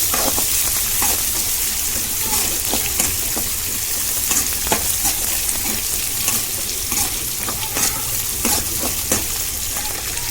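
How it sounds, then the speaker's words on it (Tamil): Onions sautéing in a pan for Tamil-style prawn gravy, a continuous close sizzle and crackle with occasional stirring scrapes and no talking. "வெங்காயம் கொஞ்சம் நேரம் வதங்கட்டும்,"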